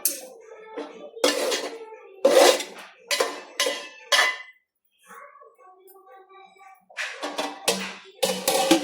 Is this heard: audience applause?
no